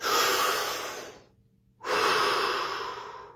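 A single deep breath, a long airy inhale followed after a brief pause by a full exhale, close and clear with no talking, during a guided relaxation exercise.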